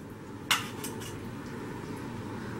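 A utensil clinks sharply against a pan of Kerala egg curry in coconut milk, one bright strike followed by a few softer taps and quiet stirring, close and alone.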